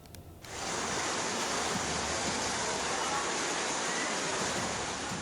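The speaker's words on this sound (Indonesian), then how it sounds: "Beginilah rekaman video amatir warga saat luapan air dari aliran Sungai Cinangsi" Floodwater from the overflowing Cinangsi river in Cianjur, West Java, roars as a dense, unbroken rush that swells in within the first half second and then holds loud and steady throughout.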